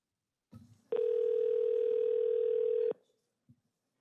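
Telephone dial tone on a call being placed into a governing board meeting, a single steady tone holding for about two seconds after a short click, with a faint blip afterward.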